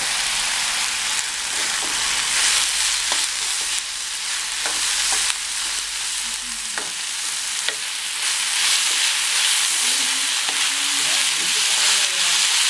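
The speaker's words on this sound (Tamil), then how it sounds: "உப்பு சேர்த்தா சீக்கிரம் வெங்காயம் வதங்கிக்கும்." Onions for onion dosa sauté in a pan with a steady sizzling and frying hiss, close and continuous, with a few faint stirring clicks.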